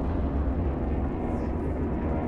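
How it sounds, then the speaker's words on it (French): An airplane passes overhead in the video game Dying Light The Following, heard as a broad, steady, rumbling roar that fills the whole clip at a constant loud level, with no speech. "Ah non, c'est un avion."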